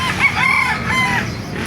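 A rooster crows once at a chicken market in Calumpit, a loud, drawn-out cock-a-doodle-doo heard up close with a hum of background noise.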